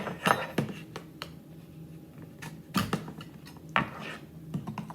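Sharp clicks, scrapes and small clinks as a knife pries open a phone casing, arriving in separate bursts with quiet gaps between them.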